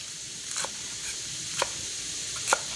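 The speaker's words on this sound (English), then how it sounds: "Let's cut the escarole leaves" Three sharp, crisp knife cuts spaced about a second apart, each a brief crunchy slice through escarole leaves against a faint steady background hiss.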